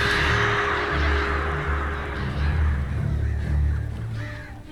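Crows cawing in the video game Alan Wake Remastered, repeated harsh calls layered over a loud, steady low rumble of game ambience that fills the whole stretch.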